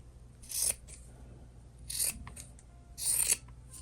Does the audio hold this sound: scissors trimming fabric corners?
yes